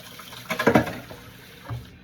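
A thick egg and milk mixture pours over a breakfast casserole in a baking dish, giving a short wet splash and glug, then a brief second splash, close and fairly soft.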